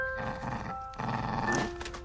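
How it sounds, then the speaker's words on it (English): Dog vocalizations woven into a rescored film soundtrack, a couple of barking, growling calls blended with sustained musical tones, moderately loud and mixed with the score. "I'm quite happy that I figured it out, that the dog is continuing the melody line"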